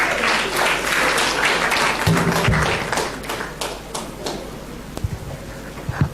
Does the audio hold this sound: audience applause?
yes